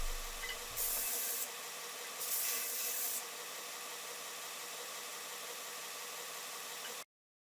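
A belt sander runs at slow speed, shaping laminated wooden knife handle scales. It gives a steady, even whir, broken by two bursts of harsher hiss as the wood is pressed to the belt, then it cuts off abruptly.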